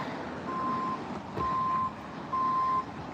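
Three evenly spaced electronic reversing beeps from a truck backing up on a city street, each a steady tone of about half a second, sounding clearly at moderate distance over low traffic hum.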